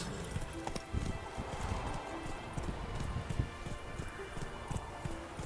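Horse hooves clip-clop steadily in The Witcher 3: Wild Hunt, a continuous run of soft, fairly quiet footfalls over a muffled game soundscape.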